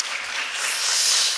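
Steady applause from a church congregation filling a room during a Sunday service, continuous and even throughout, fairly loud with no talking.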